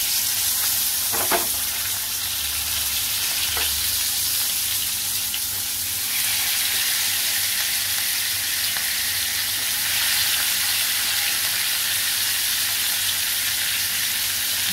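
Marinated mackerel (bangda) frying in oil on a hot tawa gives a steady, loud, continuous sizzle with a few faint clinks, nearly unbroken throughout.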